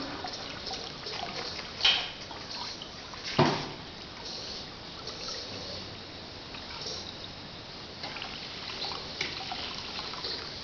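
Water runs and trickles steadily into a tank fitted with an automatic water level controller, a continuous splashing wash with two brief louder knocks early on.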